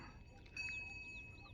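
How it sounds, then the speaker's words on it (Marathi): Birds chirping near farm fields of chickpea crops on a quiet morning walk, brief high tweets repeating over a soft steady background hum, fairly faint and distant. "पक्ष्यांचा किलबिलाट तुम्हाला ऐकू येत असेल."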